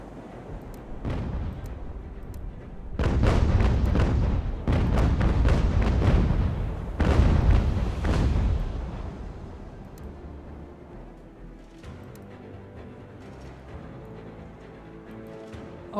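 Cannon fire in a naval battle in the UGAR British Campaign game, several heavy booming volleys clustered in bursts, loud and rumbling, then fading to a quieter ambient tail.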